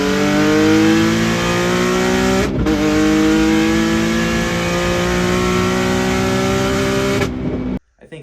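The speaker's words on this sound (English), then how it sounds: "I'll show you guys, you know, like a medium boost pass on my white 370Z" A white Nissan 370Z with forced induction makes a medium-boost acceleration pass, its engine loud and close as it climbs steadily in pitch, with a quick gear change partway through before the sound cuts off abruptly.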